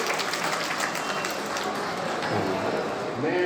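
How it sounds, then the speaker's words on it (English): Steady applause from a large audience at a Golden Jubilee celebration in Hyderabad, a continuous wash of many hands clapping at moderate loudness with no break. "Please give them a round of applause."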